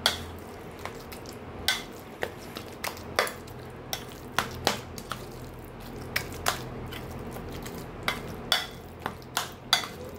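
A spoon mixing mashed pointed gourd with shrimp in a bowl for bhorta, giving repeated sharp clinks and scrapes at an uneven rhythm, close and clear over a quiet background.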